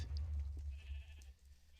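A sheep bleats in the Minecraft video game, a few short nasal calls over a low steady rumble, with no talking.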